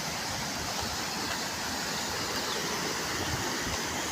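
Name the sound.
Malaprabha river water falling over rocks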